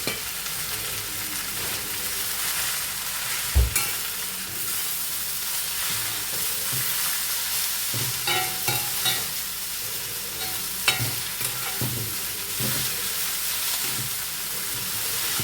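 Spinach greens with turmeric powder stirred in a sizzling pan, a soft steady fry broken by scraping strokes and a sharp clank of the spoon against the pan.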